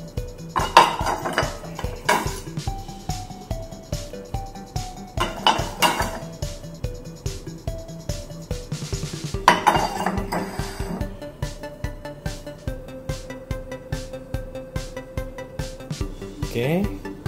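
A set of six concave HW Rosewood ceramic dinner plates, 9 inch, handled and stacked, giving repeated clinks and knocks with ringing tones through the clip, while a person talks over them.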